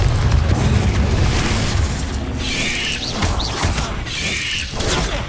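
Explosive spells going off in Hogwarts Legacy combat, deep booms and crashing blasts with whooshing magical bursts, loud and continuous with no talk.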